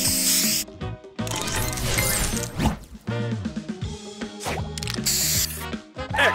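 A spray booster fires in the Match Masters puzzle game, with bursts of bright hissing spray at the start and again near the end, mixed among busy chimes, pops and musical game effects.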